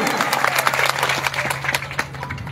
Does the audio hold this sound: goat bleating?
no